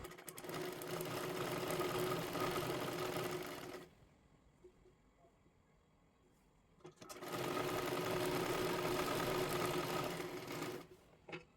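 A sewing machine stitching a blouse piece for a saree, two bursts of fast, steady whirring with a quiet pause of a few seconds between them, close and clear.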